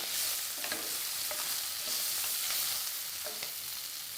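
Onions, chili and garlic sautéing quickly in a pan while being stirred, with a continuous soft sizzle and occasional light scraping strokes, fairly quiet.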